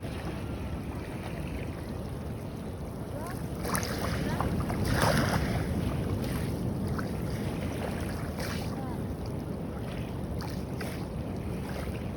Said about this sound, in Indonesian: Tuh dengerin suara ombak datang ya, untuk terapi alam ya, suara alami.